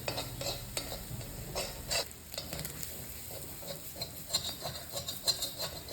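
Mussels dry frying in a seasoned pan, stirred with a spatula: a steady close sizzle with repeated scraping strokes against the pan's surface, no voices.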